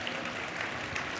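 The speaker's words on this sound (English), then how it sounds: "Clap it up" Audience applause at the outdoor unveiling of The Embrace monument in Boston, a dense, steady patter of many hands clapping at moderate distance for just over a second.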